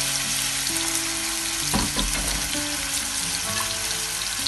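Salmon and sea bass fillets frying Indian style over low heat give a steady, close sizzle of hot oil, with a brief louder crackle burst midway and faint clinks of utensils.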